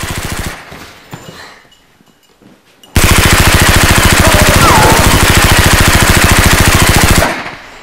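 Rapid automatic toy blaster fire in a house, a loud continuous rattling burst of about four seconds that starts abruptly after a quiet stretch and cuts off sharply.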